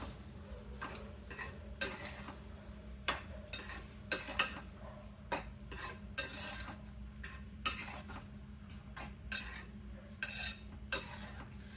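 A spoon scrapes and clinks around a pot as sugar is mixed into semiya kesari, a sweet vermicelli dish, in steady, uneven strokes at close range with no talking.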